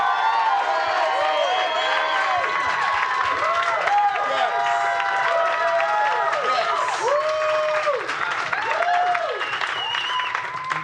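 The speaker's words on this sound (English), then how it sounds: "Don't clap too hard." Comedy club audience clapping and cheering as a performer comes on stage, with dense applause, scattered whoops and crowd noise throughout and voices calling out over it.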